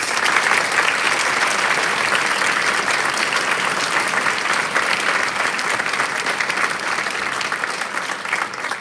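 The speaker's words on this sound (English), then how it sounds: "One more time, guys, a round of applause for all these players." A school spring orchestra concert audience gives the young string players sustained, dense applause, loud and even for several seconds, slowly easing toward the end, with no voices over it.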